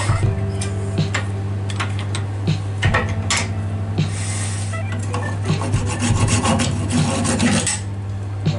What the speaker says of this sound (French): Je vais finir à la scie.